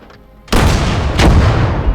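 An artillery piece fires in the World War II game Gates of Hell, a sudden loud close blast after a quiet moment, followed by a rumbling tail and a second boom layered in.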